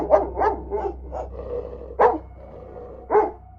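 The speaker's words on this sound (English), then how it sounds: "we heard the dog barking" A single dog barks sharply several times in a quick cluster, then two more isolated barks follow with gaps, close and clear over a low steady hum.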